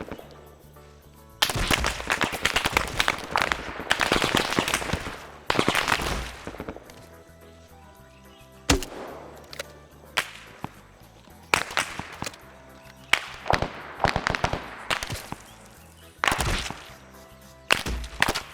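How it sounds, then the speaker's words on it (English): Marksman rifle fire from an M14 in a Vietnam war game, sharp cracking shots scattered irregularly, some loud and close, others fainter, with bursts of heavier gunfire and explosions between. "Marksman fire is incredibly close"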